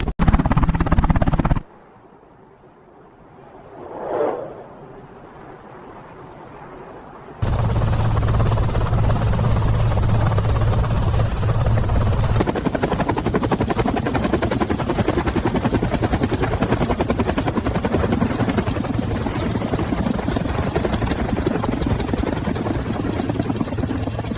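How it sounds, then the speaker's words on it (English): Helicopter rotor blades beating in a loud, steady chop close by in thin mountain air over ridges, briefly cut to a quieter muffled stretch before the roar returns and continues. "Listen to the blades bite the thin mountain air, and the wind folding over the ridges."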